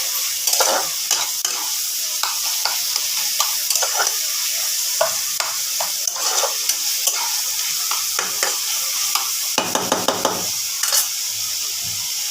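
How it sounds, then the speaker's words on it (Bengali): Chicken pieces with green chilli and ginger-garlic paste fry in a pan and get stirred, a steady sizzle carrying repeated scraping spatula strokes, with a denser burst of stirring near the end. "এবার ভালো করে কষিয়ে নেব"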